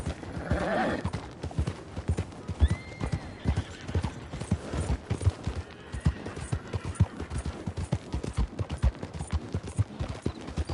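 Horse hooves clip-clop in a steady, uneven rhythm throughout, with a brief whinny near the start; no talking. From the video game Red Dead Redemption 2.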